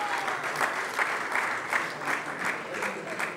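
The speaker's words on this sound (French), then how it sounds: "Est-ce qu'on peut encore applaudir pour ces champions" An audience applauds champions at a televised event, a steady, moderately distant wash of many hands clapping in rhythmic pulses, sustained for several seconds.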